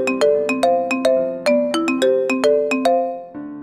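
A phone's melodic ringtone plays while a call is placed, a clear sequence of bright plucked notes in a repeating pattern, close and loud with no talking.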